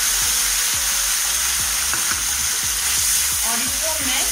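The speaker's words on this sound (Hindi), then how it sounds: "और इसको मैं 5 मिनट तक भूनूंगी" Ginger, garlic and tomato paste fries in hot oil with onion, giving a steady, loud sizzle broken by a regular rhythm of spoon strokes stirring and scraping the pan.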